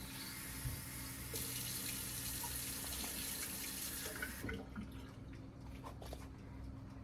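Water measured out and poured into a cup, a steady running, trickling stream that continues for several seconds before its bright hiss drops away, with no talking.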